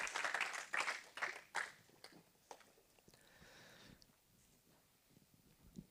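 A church congregation applauds together after a prayer, several bursts of loud clapping at first, then thinning to scattered claps and faint murmurs in the sanctuary.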